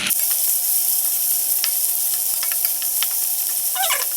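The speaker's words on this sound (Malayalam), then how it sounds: "ഒന്നര മുറി സവാളയും നാല് പച്ചമുളകും അരിഞ്ഞതും കൂടെ ചേർക്കാം ഇനി ഇത് നന്നായിട്ട് വഴറ്റണം" Chopped onion and green chillies sautéing in hot oil, a constant loud hiss of frying with scattered spoon scrapes and clicks against the pan, close and with no voices.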